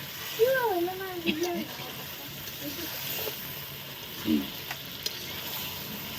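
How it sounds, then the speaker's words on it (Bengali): Whole fried potatoes go into braising goat meat for a home picnic, and the pot sends up a continuous sizzle with some stirring noise. A voice speaks briefly near the start, and a few soft knocks follow. "মাংস অনেকটা কষানো হয়ে গেছে এখন আমি গোটা আলুগুলো দিয়ে দিলাম ভেজে রাখা"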